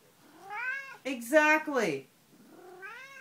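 A pet cat meows in a string of drawn-out, rising and falling calls close by, with a short pause between them and a brief spoken word in the middle.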